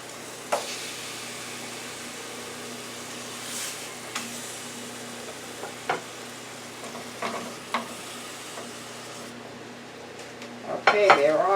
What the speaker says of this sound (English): I have a little olive oil in the bottom of the frying pan.